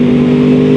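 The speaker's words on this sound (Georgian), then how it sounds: "მესამეში ვარ და ახე როგორი აჩქარებაა." A 2013 Yamaha R1 sport bike pulls hard in third gear, its engine a loud, steady, close-up drone with a strong sustained tone and no pauses.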